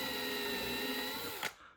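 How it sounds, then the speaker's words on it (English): A power drill bit boring a hole through a plastic RC car body for a Vanquish VS4-10 Phoenix scale kit, a steady close whine that stops abruptly near the end after a brief bite. "I'm choosing to use a drill bit here, so I'm going to go ahead and know where my hole is and go ahead and put a hole."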